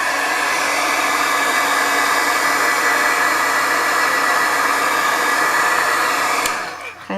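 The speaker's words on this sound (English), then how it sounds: "now I'm just going to hit it real quick with my heat gun, just to make sure that we can dry them real quick" A heat gun blows a steady, loud, even whoosh of hot air close by while drying freshly stamped Distress ink, then cuts off just before the end.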